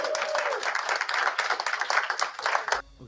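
NASA researchers cheer and applaud the landing of the OSIRIS-REx sample capsule, a dense burst of clapping and cheering from a room crowd that stops abruptly near the end.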